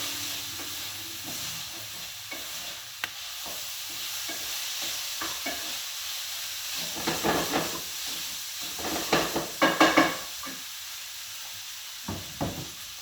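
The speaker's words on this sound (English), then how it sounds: "Your sausages to stir. Oh yeah, they're starting to get all nice and golden there." Sausages sizzle and fry in a hot pan, the steady hiss broken by scraping stirs that grow louder and more clustered toward the end, with no voices over it.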